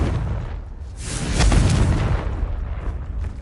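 Confringo fire spell from Hogwarts Legacy on PS5 bursting into a loud, booming explosion that swells to a peak mid-clip and rumbles on, with no talking.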